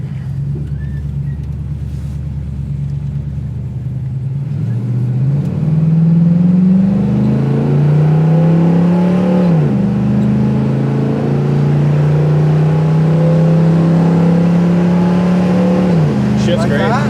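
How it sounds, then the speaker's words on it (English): A 1969 Pontiac Firebird convertible accelerates hard through the gears. The engine note climbs, drops at each shift and climbs again, loud and close from inside the car, with voices faintly underneath. "we're gonna go through the gears here real quick"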